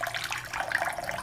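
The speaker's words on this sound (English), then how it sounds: "we will put fresh water" Fresh water pours steadily onto lentils being washed in a bowl, a continuous splashing rush that stays close and fairly loud with no voices over it.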